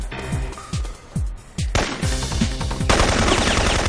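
Video game gunfire in a mission: rapid bursts of automatic weapon fire with repeated booming shots, loud and dense, building into a continuous volley toward the end.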